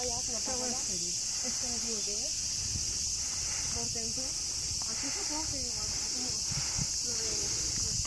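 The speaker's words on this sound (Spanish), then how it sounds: "Las cigarras me dan la bienvenida al país de las cigarras." Cicadas in Nara, Japan, keep up a steady high buzzing drone through the whole stretch, with someone talking over it.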